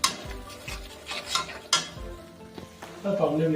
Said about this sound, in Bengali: আমরা একে একে এর মধ্যে আদা বাটা, রসুন বাটা, পেঁয়াজ বাটা ও টমেটো বাটা দিয়ে একসাথে মিশিয়ে এটাকে ভালো করে কষিয়ে নিচ্ছি।